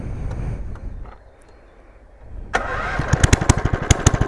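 A small 270cc engine on a motorized beer crate cranks with a brief rumble, goes quiet, then catches and runs with rapid, loud popping bursts close by.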